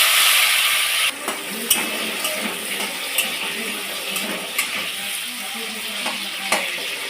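Two tomatoes dropped into hot oil with five-spice seeds for a soya bean curry, sizzling loudly at first and then frying at a steady hiss, with several sharp clinks of a spoon against the pan.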